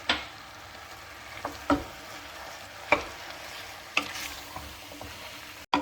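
Minced meat frying in a pan with salt and seven spices, a steady close sizzle punctuated by four or five sharp scrapes and knocks of a utensil as it is stirred.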